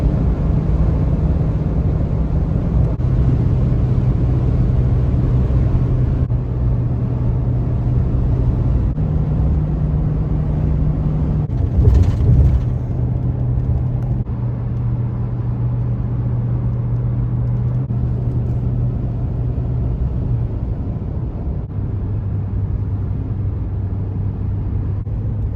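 Steady engine and road rumble from a car cruising on a highway during a long road trip, a continuous low drone with a soft brief bump partway through and no talking.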